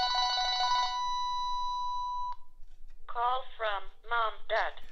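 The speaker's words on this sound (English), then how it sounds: "the old phone will ring when someone calls your smartphone number" An old telephone's bell rings near and clear through a Cell 2 Jack adapter when a smartphone number is called, one sustained ring that stops abruptly, followed by a person speaking.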